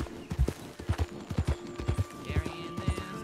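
Horse hooves clip-clop at a steady riding pace in the video game Red Dead Redemption 2, loud and close, with the rhythmic thuds repeating throughout.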